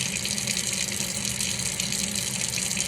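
A tap runs water steadily during hand washing in a health care setting, a continuous close splashing hiss with no talk over it.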